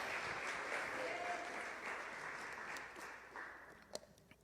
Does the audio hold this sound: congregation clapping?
yes